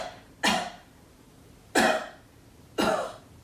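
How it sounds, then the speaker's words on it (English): Three deliberate, forced coughs come at even spacing from one person close by, each a short sharp burst with a brief trailing breath, in a quiet room during a slow-flow exercise session. "take a breath in and just pretend to cough"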